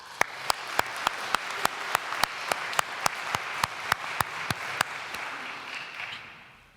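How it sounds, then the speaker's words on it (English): Graduation ceremony audience applauding, with steady broadband clapping from a large crowd, a few sharp individual claps standing out, fading toward the end without any talk. "Let's give them a well-deserved round of applause."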